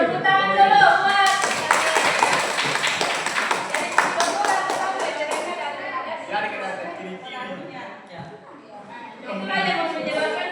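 A classroom group claps during a chemistry lesson, a brief burst of hand clapping under voices, with talking continuing before and after the claps.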